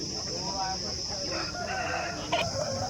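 At a country chicken market in Mydukur, roosters crow and hens cluck amid the crowd's steady hum, with a high constant whine running underneath and a brief sharp sound near the end.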